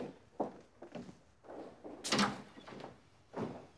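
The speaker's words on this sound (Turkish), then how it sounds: "Açın kapıyı." A door opening in a home as a guest arrives for a family dinner, heard as a few soft thuds and a latch-like click in a quiet room.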